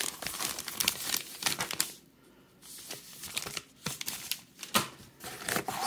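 Packing paper crinkles and rustles while a Legendary Encounters Alien board game is unboxed. Close, crisp bursts of crumpling come in uneven waves, with a short quiet pause partway through.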